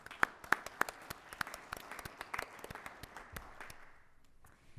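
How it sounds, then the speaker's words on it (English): A small crowd at a board of trustees meeting claps in a short burst of applause, sharp individual claps thinning out and fading to quiet by the end. "Why don't we give them a big round of applause?"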